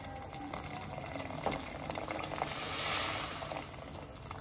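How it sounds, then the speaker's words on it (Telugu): A small cup of water poured into a cooking pot while making vegetable shorba soup, a steady close splashing hiss that swells briefly near the end, with no talking. "మాడిపోతుందని కొంచెం నీళ్ళు పోసుకుంది, ఒక చిన్న కప్పు."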